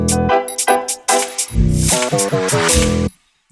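A sample drill beat plays in full: booming 808 bass, snappy hi-hats and a light triangle ringing over a melodic sample, looping steadily for a few seconds before cutting off abruptly.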